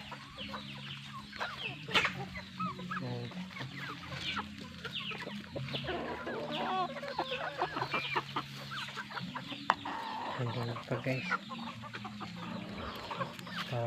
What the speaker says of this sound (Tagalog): Pagkain na naman atin yung mga manok.